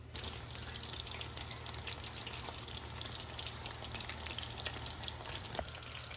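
Chicken pakoda pieces frying in hot oil in a pan, a steady dense sizzle and crackle holding evenly throughout, close and unbroken, with no talk.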